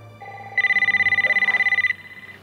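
A telephone rings in a GameStop store, a single clear burst of rapid electronic trilling lasting about a second and a half, loud and close, with a low background hum beneath it.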